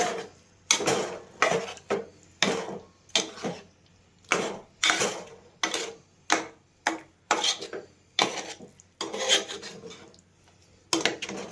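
Repeated scraping and clanking of a utensil against a metal pot while stirring rambutan pickle with spice paste, in steady irregular strokes with short pauses, close by and with no talking.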